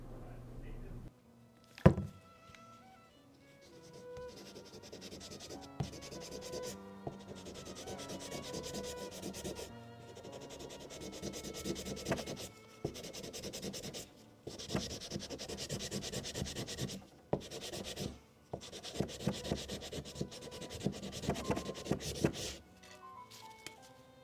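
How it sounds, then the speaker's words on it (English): Rhythmic hand sanding of a rusty knife blade recovered from compost, steady rubbing strokes in repeated bursts separated by brief pauses, close and moderately quiet. "There's still some rust, but it will come off when I thin the knife."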